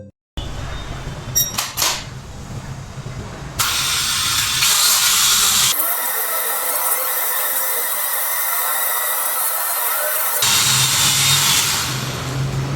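A drone propeller blade is set spinning to cut bread, giving a loud, steady, hissing whir that starts abruptly and holds, changing character partway as the blades bite, after a few earlier clicks.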